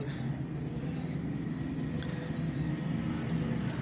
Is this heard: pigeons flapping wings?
yes